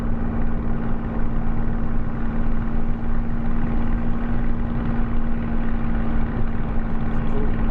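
In Microsoft Flight Simulator 2020, aircraft engines drone loudly and steadily through a takeoff roll, a constant close hum with a strong low tone and no break across the whole stretch.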